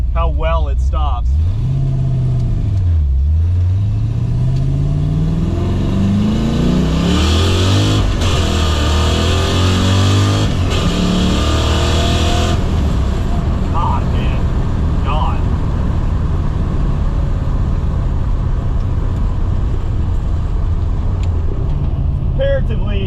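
A 1991 Ford Mustang Fox body accelerates hard on the road, its engine climbing through the revs in long rising pulls with a gear change, loud and close from inside the car, fading to steady driving rumble.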